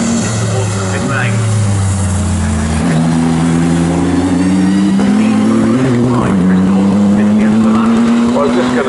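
GT Cup race cars at the Snetterton circuit roar past, engine notes climbing and shifting as they accelerate, loud and continuous beneath a commentator talking over them.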